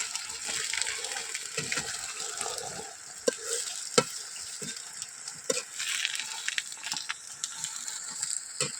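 Eggplant cooking in a pan, a steady soft sizzle with frequent scraping stirs and clicks, close and fairly quiet with no talk.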